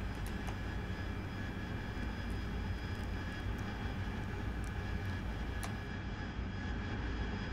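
Steady jet engine roar of an AV-8B Harrier in DCS World, a broad continuous drone with faint tonal whine holding level throughout, no voices.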